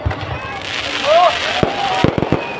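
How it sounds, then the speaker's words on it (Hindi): Fireworks bursting at a Ravan Dahan festival during Ramleela in Vadodara, Gujarat: several sharp, booming cracks in quick succession near the end, with a loud crowd murmur and someone speaking over a PA beneath. "आतिशबाजी का आनंद लें, लेकिन थोड़ा दूर होकर के लें"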